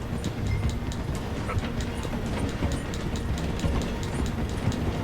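A train in Red Dead Redemption 2 rolls through a station, a steady dense rumble with faint repeating wheel clicks on the rails, continuous and fairly loud throughout.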